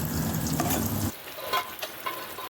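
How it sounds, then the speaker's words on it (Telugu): Fried eggs being lifted out of a hot pan, a brief sizzle that drops off abruptly, then scraping and clinking sounds as they are moved to a plate. "గుడ్లు వేగిపోయాయి కదా, ఈ పళ్ళెంలో తీసేస్తున్నానండి."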